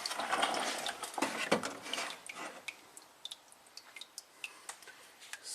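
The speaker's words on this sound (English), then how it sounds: "Let that drip out." Old transmission fluid dripping from a 2013 Lexus ES350 with 185k miles: a splashy pour that thins into scattered, irregular soft drips ticking close by, with no talking.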